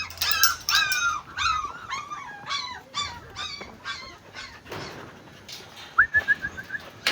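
An excited dog near her puppies gives a run of high whimpers and whiny yelps, close and fairly loud, with a short pause and a final burst of squeaky whines.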